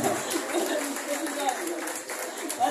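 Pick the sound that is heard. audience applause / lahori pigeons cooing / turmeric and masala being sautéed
audience applause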